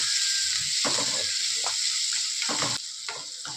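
Chopped onions and small coriander stems sizzle steadily in hot oil in a pan, with a constant bright frying hiss and a few soft stirring scrapes.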